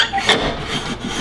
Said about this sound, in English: I'm just gonna sand that up